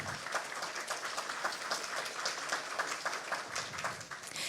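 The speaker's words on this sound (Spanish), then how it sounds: "Aplausos, por favor" Audience at the presentation of a national glacier and lake inventory applauds steadily, a moderate, dense patter of many hands running through the whole stretch without speech.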